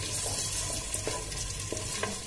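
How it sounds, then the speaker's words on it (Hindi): Sliced onions fry with whole spices in hot ghee in a pressure cooker for vegetable pulao, giving a loud, continuous close-up sizzle with occasional scraping stirs from a spoon. No one speaks. "खड़े मसालों के बाद हम इसमें डालेंगे स्लाइस अनियन और फ्राई करेंगे गोल्डन होने तक।"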